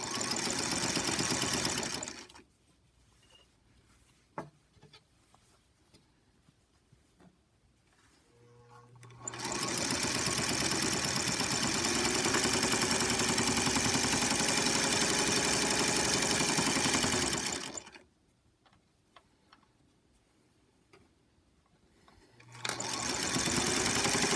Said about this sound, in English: I'm going to go ahead and get that in the machine and get that sewn together